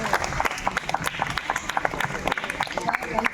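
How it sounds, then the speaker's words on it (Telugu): Crowd applause at an event, dense fast clapping filling the whole stretch, with voices mixed in underneath. "చప్పట్లు గట్టిగా."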